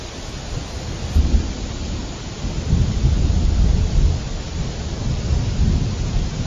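A cartoon thunderstorm: steady heavy rain pours continuously while deep thunder rolls and swells through the middle, loud and close with no talk.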